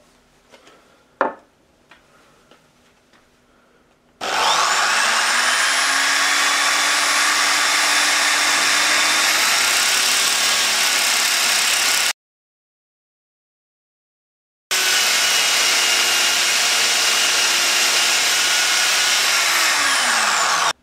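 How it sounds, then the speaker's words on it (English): A power drill bores out the breech of a homemade air shotgun barrel with plenty of oil, giving a steady high whine for several seconds, a brief stop, then a second sustained run; faint clicks come beforehand. "So I'm now going to drill out the breech to accept the shells."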